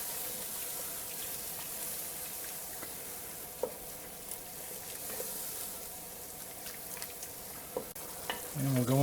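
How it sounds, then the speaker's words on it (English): Tomato paste is stirred into a sizzling pot for an Italian pot roast, a steady close frying hiss with scattered soft scrapes and clicks of the spoon, and no voices. "in goes our tomato paste. Give that a little bit of a stir."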